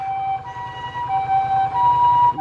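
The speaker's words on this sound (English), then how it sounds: "It's a fucking ambulance" An ambulance siren wails loudly and close in street traffic, its high tone rising and falling steadily over a low engine rumble.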